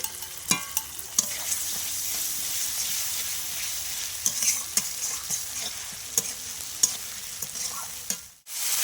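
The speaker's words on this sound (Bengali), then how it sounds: "মশলাটা কিন্তু অনেকটাই ভাজা হয়ে গেছে" A ground paste of chili, cumin, ginger and garlic fries in a pan with a constant close sizzle, punctuated by repeated sharp scrapes and knocks of stirring and a loud clatter near the end.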